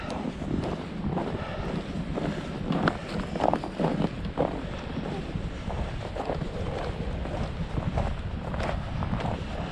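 Wind at about 15 to 20 miles an hour in a snowy forest in low-20s temperatures, a steady, full roar with gusty buffeting against the microphone and no speech.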